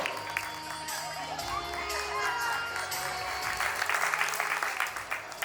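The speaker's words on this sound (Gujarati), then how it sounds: "તાળીઓ એ પ્રમાણમાં વાગી." Sustained clapping from a crowd at a wedding sangeet game fills the space, with a dense steady patter and some voices mixed in throughout.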